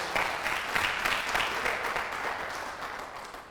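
A church congregation claps steadily in a sustained round of applause that gradually fades.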